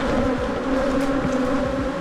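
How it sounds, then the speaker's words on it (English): Honey bees at an open hive during a late-March beekeeping inspection hum in a dense, loud, continuous buzz that fills the space, with individual insects flying close past. "And down here at number 3, all the angry bees."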